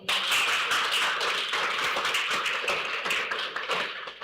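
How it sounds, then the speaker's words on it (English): Audience hand clapping at a talk event, a dense, steady wash of many hands clapping continuously and fairly loud throughout, with no voices over it. "Let's give him another hand clap."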